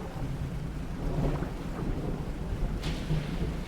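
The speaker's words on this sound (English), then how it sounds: "I don't think I've ever seen lightning strike like that before." Thunder during a lightning storm in the fishing video game Dredge rolls as a steady low rumble with rain-like hiss, swelling slightly near the end, with no talking.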